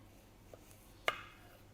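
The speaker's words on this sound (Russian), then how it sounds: "Начнем с лука, порежем его мелко" An onion is chopped finely with a knife, giving one faint tap followed by a single sharper knife strike against the board in otherwise quiet surroundings.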